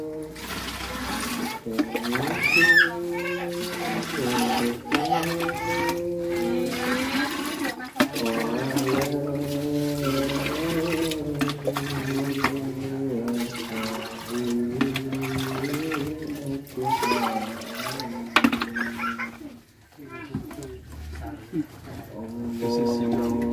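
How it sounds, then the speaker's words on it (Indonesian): Water is poured over a mixed fermented feed for fattening goats and sheep until everything is evenly wet, a continuous splashing wash heard under steady talking. "Setelah campur, kita siram sampai bahan semua merata, basah."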